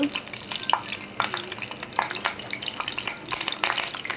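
Cumin seeds and curry leaves hit hot oil for an aubergine curry, crackling and spluttering in close, busy bursts over a continuous loud sizzle, with stirring scrapes mixed in.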